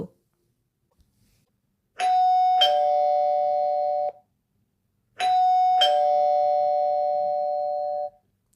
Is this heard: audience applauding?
no